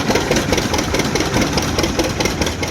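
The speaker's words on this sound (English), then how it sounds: "The Super M, they upgraded the engine, they changed it to 264 cubic inch" A Farmall Super M tractor with its upgraded 264 cubic inch engine runs in a harvest-days parade, giving a steady, close, unbroken mechanical chug for the whole stretch with no voices.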